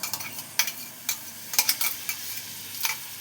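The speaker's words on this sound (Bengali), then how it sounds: "এবার ভালো করে এটাকে ভেজে নেব, শুকনো শুকনো করে" Ridge gourd filling being stir-fried in a pan, with quiet sizzling under a series of sharp scraping and stirring knocks from a spatula. No one speaks.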